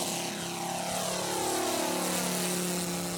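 Home-built wooden radio-controlled model airplane with a propeller engine flies overhead at a model aircraft meet in Ghisonaccia, Corsica, a steady buzzing drone with shifting pitch as it passes, no talk.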